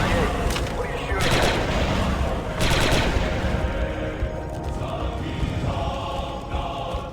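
Blaster fire from Star Wars Republic Commando: repeated loud bursts of rapid shots with brief pauses between them, fading toward the end as combat sounds and a voice continue underneath.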